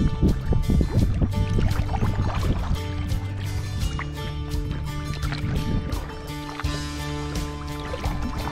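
A kayak is paddled on a lake on a Saturday morning, with soft, irregular water splashes and drips from the paddle strokes over steady outdoor ambience and light wind.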